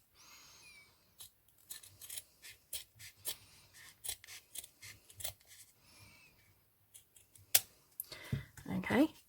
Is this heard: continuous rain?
no